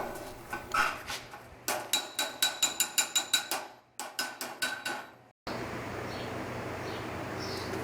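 Stainless steel bar tapping creases into sheet metal, in rapid bursts of sharp metallic clinks with short pauses between runs, ending in a steady low background hum.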